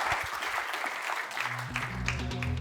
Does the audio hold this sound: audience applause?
yes